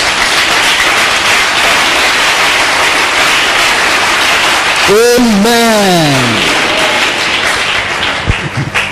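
A church congregation claps together in a steady, dense burst of applause that fills the space, while a voice briefly calls out over it partway through.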